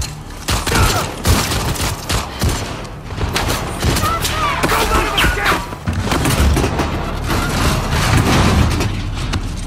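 Loud, dense volleys of gunshots in The Last of Us Part II, heavy thuds and booms mixed with rapid fire that runs nearly continuously, close and chaotic.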